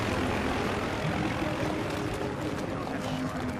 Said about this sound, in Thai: มีเครื่องบินด้วยมีเครื่องบินด้วย